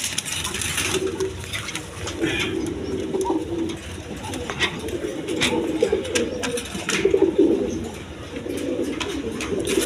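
A pair of white Danish pigeons coo inside a cage, the soft low cooing rising and falling in repeated bursts over steady background noise.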